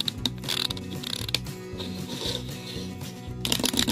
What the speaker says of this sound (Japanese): そしてこちらのゼンマイを回すと、